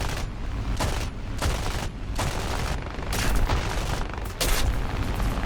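Rapid machine-gun bursts from a twin MG81 tail gun on an aircraft in War Thunder rattle out in several loud, closely spaced volleys with short gaps between them, close and harsh, with no talking.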